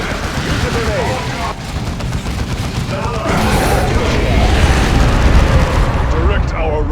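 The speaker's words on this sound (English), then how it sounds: "Use a grenade." A dense, rumbling battle scene from the Dawn of War 2 video game, with a grenade explosion among continuous gunfire, booms and shouting voices, loud throughout and heavier toward the end.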